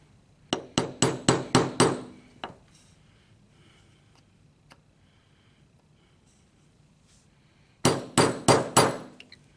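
A hammer drives a punch in a hole on a Remington Gallery Special with a quick burst of about six sharp metallic blows, a pause, then another rapid series of similar strikes, close and crisp.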